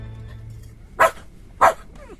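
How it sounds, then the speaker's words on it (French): Two loud, sharp dog barks spaced about half a second apart, set against a quiet background in a dramatised Tintin audiobook. "C'est le chien."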